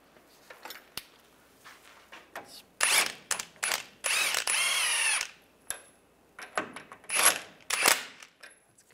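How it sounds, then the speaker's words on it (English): Power tool whirring in short and longer bursts while a jam nut goes onto the steering tie rod of a 2007-2013 Chevrolet Silverado 1500, close and loud, with faint clicks and clinks between runs. "And I'll put the jam nut on."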